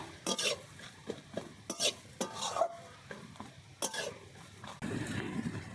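A spoon scrapes and knocks against a pan while mixing mashed jackfruit seeds with chopped coriander, irregular close strokes over a faint sizzle, with a steadier frying hiss near the end.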